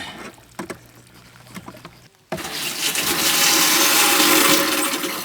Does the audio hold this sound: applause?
no